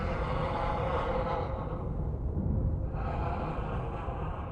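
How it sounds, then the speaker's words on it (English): Rhythmic, isolated breathing through a mask evoking Darth Vader, broad and hissing with a slow inhale and exhale cycle, steady and close, with no talk. "when she puts it on and they isolate the sound of her breathing"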